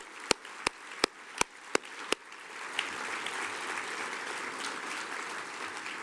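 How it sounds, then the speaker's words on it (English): Gala audience applause at a literary awards dinner: a few sharp, evenly spaced claps close by, then a softer, more distant wash of clapping from the crowd. "Let's give them a round of applause."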